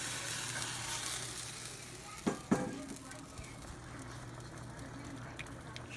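Chicken sizzles steadily in a hot pan for arroz con pollo, a constant crackling hiss with a couple of sharp clanks from utensils early on.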